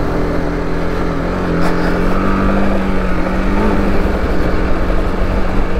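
A motorcycle rides through deep desert sand on a wash road, its engine droning steadily and loudly at close range with rough wind buffeting and no speech.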